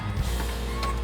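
A kit car's capsule canopy closes with a short motorized whir and a faint mechanical rattle near the end, heard up close for about a second.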